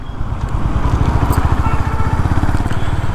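A Honda CB350 RS motorcycle engine runs steadily up close, its low, rapid thumping pulse continuous and loud throughout with no pauses.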